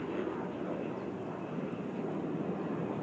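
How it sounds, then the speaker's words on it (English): A helicopter flying low over Phoenix, Arizona gives off a faint, steady broadband engine and rotor drone that holds evenly throughout, with no talking. "Chopper, dude. Yeah, I've seen it. It's flying low."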